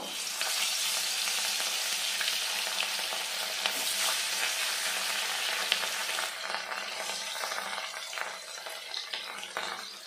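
Rui fish pieces frying in hot oil give a dense, steady sizzle and crackle, close and continuous throughout with no talking.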